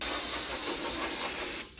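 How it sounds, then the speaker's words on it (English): An aerosol can of starting fluid sprays onto engine gear on a 1951 Chevy 3100 as one close, continuous hiss lasting under two seconds. "Apparently starting fluid works pretty good as a backup to brake clean."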